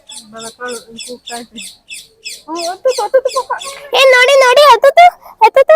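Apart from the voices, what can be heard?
birds chirping at Mysore Zoo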